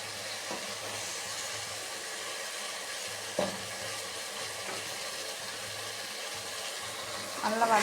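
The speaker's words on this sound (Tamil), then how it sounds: "இதோட காய்கறிகள் போட்டு வதக்கலாம். நல்லா வதங்கட்டும்." Vegetables for Trichy-style sambar sautéing in a pan, a steady soft sizzle with occasional stirring scrapes and a louder clatter near the end.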